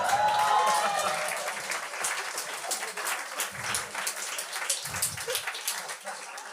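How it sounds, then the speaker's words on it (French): A comedy club audience applauds a comedian's father, clapping building loud at the start then continuing steadily with scattered cheers and a few voices mixed in. "Est-ce qu'on pourrait donner une bonne main d'applaudissement à mon papa qui est venu me voir ce soir?"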